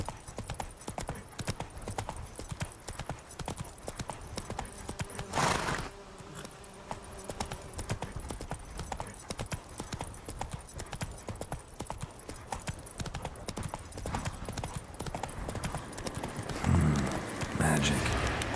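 A horse gallops in The Witcher 3: Wild Hunt, a steady rapid clip-clop of hooves that runs throughout, with a voice speaking at times over the hoofbeats.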